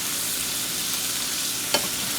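Vegetables and already-cooked meat softening in butter in a pan on medium heat give a steady, dense sizzle throughout, with one brief scrape or stir near the end and no talking.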